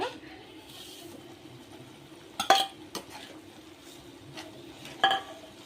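Kheer being stirred as jaggery blends into milk in a pot, a quiet low simmer broken by a few sharp spoon clinks against the pan.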